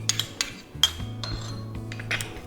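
A utensil clinks and taps against a small dish while sesame oil, soy sauce and sriracha are mixed, giving a handful of sharp metallic ticks over a low hum.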